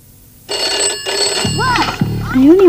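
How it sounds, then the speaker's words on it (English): A telephone bell ringing in a house, a loud, close, continuous ring with a brief break, with voices starting to talk over it toward the end. "I only ran into the house to answer the phone."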